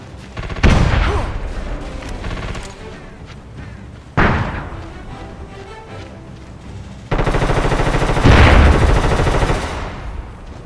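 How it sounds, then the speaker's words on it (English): Gunfire from the SOCOM video game, loud bursts of rapid automatic fire and booming shots arriving in three separate volleys, the last sustained and heavy, with no talking. "You'd hear distant gunfire cracking through your headset"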